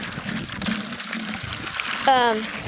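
Water pours into a bucket with small holes in its base, set beside a tree on a farm; a voice talks over the soft splashing before a brighter, rising gush of pouring near the end.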